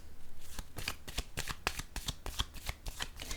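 A deck of cards is shuffled quickly at close range, giving a rapid, even run of crisp riffling snaps from start to finish with no talking.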